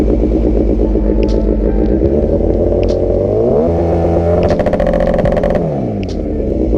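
A car engine revs to 5,000 RPM, climbing loudly from a rough idle, holding at a high pitch, then dropping back, with clattering exhaust crackle near the end.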